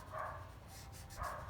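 Faint, far-off barking from the neighbors' dogs comes in two short bursts, one near the start and another near the end, with quiet background between.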